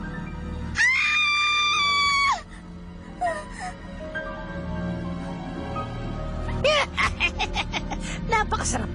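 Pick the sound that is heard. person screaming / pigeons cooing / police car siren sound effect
person screaming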